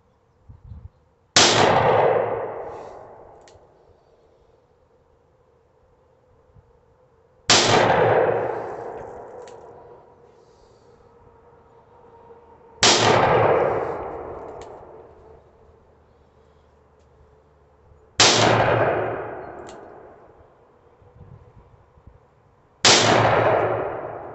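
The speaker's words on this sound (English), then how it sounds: "going to shoot the 357" Five .357 revolver shots fired at a range, each a sharp loud crack followed by a ringing metallic clang off steel targets, spaced several seconds apart with quiet between.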